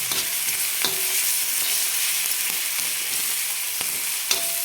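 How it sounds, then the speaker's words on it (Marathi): Green chillies and garlic sautéing in a pan for pithla, a continuous bright sizzle close by, punctuated by a few sharp clicks of stirring. "कच्च्या मिरच्या असल्यामुळे थोडंसं आपल्याला एक अर्धा मिनिटभर आपल्याला परतून घ्यायचं"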